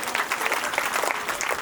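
An audience at a school upgrade and inauguration ceremony in Rajasthan claps steadily, dense enthusiastic applause throughout with no other sounds standing out.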